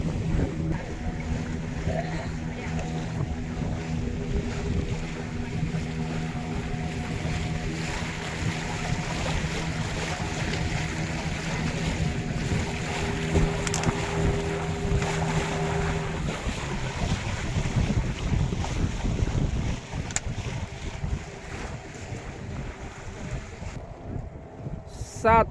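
A boat rides across the confluence of a river and the Arabian Sea at Devbag, Sindhudurg, with steady engine drone, water wash and wind buffeting the microphone throughout, easing off near the end.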